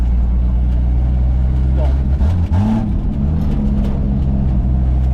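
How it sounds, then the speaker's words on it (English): A Jeep XJ is driven off-road, its low engine rumbling steadily and loudly from inside the cab with small shifts in pitch, while someone talks over it. "we got the old 2-man Jeep out wheeling for the first time"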